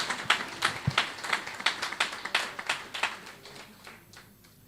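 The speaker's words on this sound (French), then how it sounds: "Applaudissez encore très fort pour notre fille." Rhythmic clapping from a church audience applauding a young woman, distinct claps in a steady beat that gradually thins out and fades.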